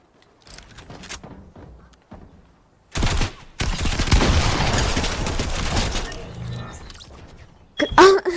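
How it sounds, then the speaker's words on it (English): A burst of loud, rapid gunfire erupts after quieter scuffling and footsteps, lasting several seconds, then falls away before a final sharp crack. "I just shot at you because I felt like it."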